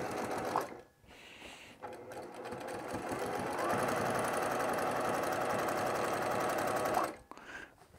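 A sewing machine stitches a single layer of fused raw-edge appliqué in steady continuous runs, a close, even motor whir broken by brief pauses, with faint talk at times.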